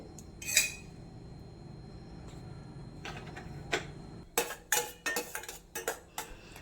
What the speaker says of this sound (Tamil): இப்போ நம்ம அடுப்பில் பாத்திரத்தை வச்சு அதில் தேவையான அளவு நெய் போட்டு